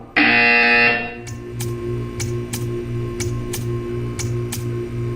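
A loud electronic buzzer in the video game Portal 2 sounds once for about a second, then cuts off, leaving a steady mechanical ticking at an even rhythm over a low hum.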